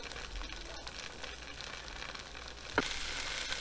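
Seasoned, crusted rabbit pieces frying in hot oil for Southern fried rabbit, a steady close crackling sizzle that swells suddenly as more pieces hit the oil near the end.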